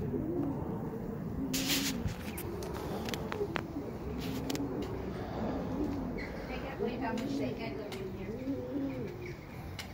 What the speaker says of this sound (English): The doves?